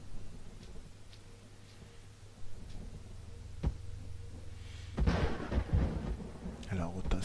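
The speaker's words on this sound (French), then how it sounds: "Il y a de l'orage dans mon jeu" Thunderstorm in the video game Empyrion: a low steady rumble of rain and wind with scattered thunder cracks, building to a louder, sharper roll of thunder near the end.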